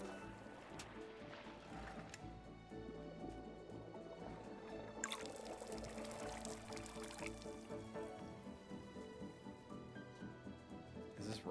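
Liquid poured over tea in the cozy tea-brewing game Wanderstop, a soft trickling and gurgling stream that runs steadily under layered ambient music.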